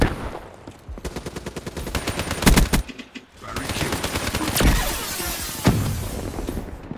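Rapid automatic weapon fire in Black Ops 3 multiplayer, dense bursts of rattling shots with sharper single cracks between them, loud and close, pausing briefly before firing again.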